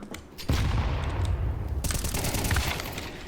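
Gunfire in the video game Counter-Strike 2: a burst of rapid shots, then heavy sustained automatic fire with a second volley joining partway, loud and close with no talk over it.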